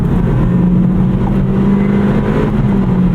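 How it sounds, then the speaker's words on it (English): A 2023 Acura Integra engine drones steadily under acceleration, its pitch holding and then dipping slightly as the automatic transmission shifts up a gear at high revs. "Automatic upshift there."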